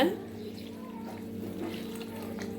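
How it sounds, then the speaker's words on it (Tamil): Tamarind water is poured into a simmering Tamil-style fish curry, a soft steady splashing pour over a low constant hum. "இப்போ புளி ஊற்றிக்கலாங்க"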